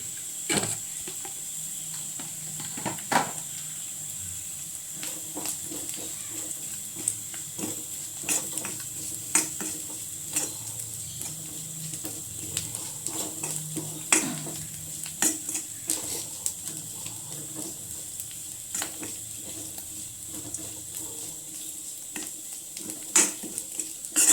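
Coconut and chilli powder roasting in a pan for an onion theeyal, with steady scraping and stirring, light clinks of a spoon against the pan and a faint sizzle running throughout, no talking.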